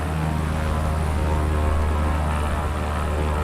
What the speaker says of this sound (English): Let's try and take off before the end of the runway.